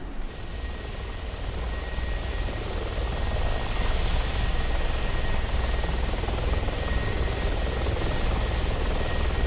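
A helicopter engine and rotor in a flight simulator game drone steadily as a loud, continuous broadband roar with a faint high whine, holding even throughout after the aircraft settles on the ground.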